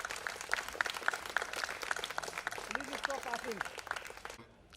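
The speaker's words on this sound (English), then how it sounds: "I just want all of us to just give them a huge applause." Audience applause at a trailer launch for The Night Manager, steady clapping spread across a crowd, with voices talking over it and the noise cutting off near the end.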